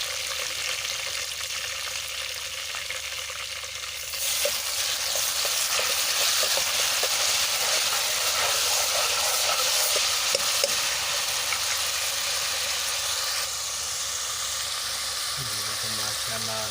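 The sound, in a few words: onion and garlic frying in a pan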